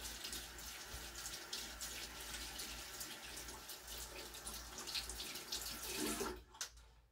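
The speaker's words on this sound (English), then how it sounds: "I rinse my brush really well." Tap water runs steadily into a sink as a makeup brush is rinsed under it, a continuous close splashing stream that cuts off near the end.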